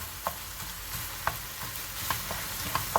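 Onions sauté with salt in a pan, giving a low, steady sizzle broken by occasional sharp scraping taps from stirring, close by and with no speech.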